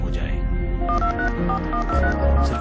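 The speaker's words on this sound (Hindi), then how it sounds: "सिर्फ एक फोन घुमाने से" A telephone number is dialed, a quick run of short keypad tones stepping through different pitches over a dense, loud background with voices.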